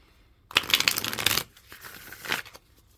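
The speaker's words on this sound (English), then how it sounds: "we'll go ahead and give it a couple of shuffles here" A deck of tarot cards is shuffled by hand in two bursts of riffling and sliding, the first longer and denser, the second shorter, close and crisp with quiet pauses between.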